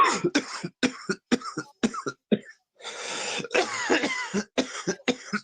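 A man coughs repeatedly in sharp bursts during a live Patriots vs Jets football stream, with a longer rough hacking fit in the middle, close and loud with brief pauses between.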